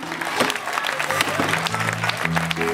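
Spectators applauding a competitor at an underhand endurance beech-chopping timber sports event, steady clapping with a voice talking over it throughout.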